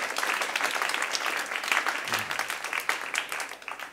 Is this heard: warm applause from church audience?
yes